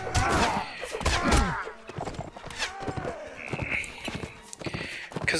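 Horses gallop through a battle in the video game Mount and Blade Warband, with busy hoofbeats, thuds and clashing effects. Someone talks over the clatter throughout.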